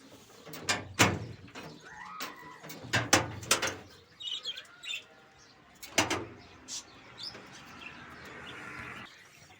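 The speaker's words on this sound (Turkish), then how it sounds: "Şu an civciv sesleri geliyor." Budgerigar chicks in a nest box of an outdoor aviary giving faint high chirps, broken up by loud wooden knocks and rattles as the box door is handled, with scattered thumps throughout and no speech.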